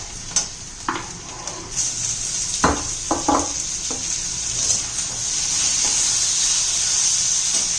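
Chopped tomatoes dropped into a pan of frying onions while cooking a spicy dry sprouted moth bean dish, a steady bright sizzle with a few stirring scrapes and clinks before the hiss settles into a constant fry.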